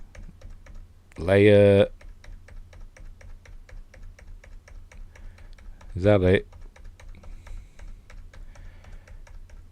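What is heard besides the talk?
typing on computer keyboard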